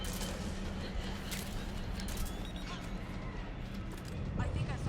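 Gunfire in the PS3 game Metal Gear Solid 4, a dense run of rapid shots and bursts over game ambience and loud effects, continuous throughout.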